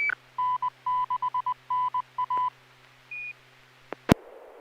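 Amateur radio SSTV net transmission carrying a rapid string of DTMF-like dialing tones in bursts, then a single longer tone, a brief click and a sharp burst of noise at the end, with no talk.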